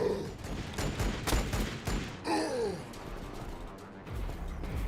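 Bursts of gunfire from a Warhammer 40K strategy game with Sisters units under focused fire, several quick volleys in a row mixed with game effects, while a player talks over them.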